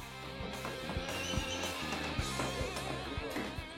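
A horse named Cuddles gives a loud, drawn-out whinny up close, with hoof clops and shuffling thuds breaking in now and then.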